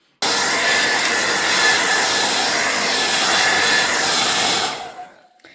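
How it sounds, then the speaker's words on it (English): A hair dryer drying fresh paint on a gel printing plate switches on abruptly, blows a loud steady whoosh at close range for about four and a half seconds, then winds down and fades. "I'm gonna hair dry it."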